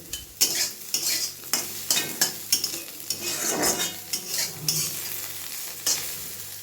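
Chicken frying in an iron wok over a strong gas flame gives a continuous sizzle, with frequent scraping strokes and metallic clinks from stirring in an irregular rhythm, heard up close without speech.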